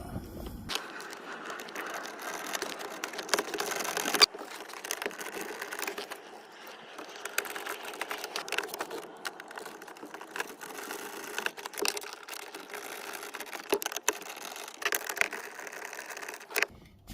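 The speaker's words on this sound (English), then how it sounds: "Just going to reinstall the bolts." Bolts being reinstalled while fitting an instrument cluster from a Pontiac G5 into a Chevy Cobalt, faint small clicks, ratcheting and handling noises scattered irregularly over quiet background.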